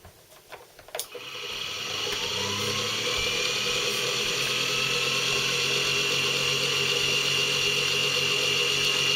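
An engine revs up after a brief knock and clatter, its whine climbing and then holding at a loud, steady high pitch with a dense buzzing drone throughout.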